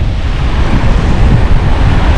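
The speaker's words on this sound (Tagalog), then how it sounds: "malaki yung alon" Large sea waves surging onto the shore near a river mouth, a continuous loud roar of surf with wind noise buffeting the microphone throughout.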